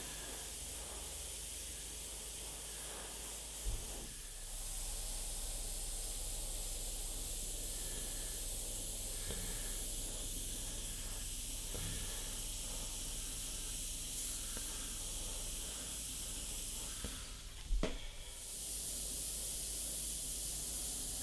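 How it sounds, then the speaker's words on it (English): An airbrush sprays cerulean blue paint, a steady continuous hiss running throughout with brief faint knocks and a short louder puff near the end; no speech. "using that cerulean blue, I'm being very accurate with where I'm spraying"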